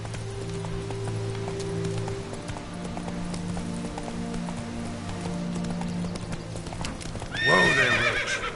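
Roach, a horse in the video game The Witcher 3, gallops with a steady, rhythmic clip-clop over soft rain and background music, then lets out a loud, close neigh near the end.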